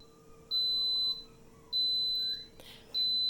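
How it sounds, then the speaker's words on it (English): An Instant Pot timer beeps when cooking finishes: three long, high, steady electronic tones with short gaps between them, clear and fairly loud in a quiet kitchen. "Okay, so the Instant Pot has finished cooking. Timer just went off."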